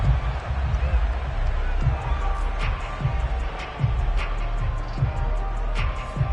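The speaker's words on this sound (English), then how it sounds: "Plenty of shouts from this crowd as they watch the replay." A stadium crowd in the Madden 22 football video game roars and shouts steadily during a replay, a dense continuous wash of cheering with scattered louder bursts.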